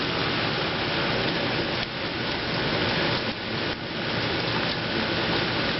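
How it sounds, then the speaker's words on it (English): Steady rain drumming on a roof during a tornado warning with high gusty winds, a loud, constant hiss that swells and dips slightly with the gusts, no voices. "No, it's just rain coming up the roof."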